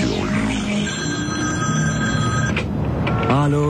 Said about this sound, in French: Quand le téléphone sonne, on ne peut pas s'empêcher de répondre.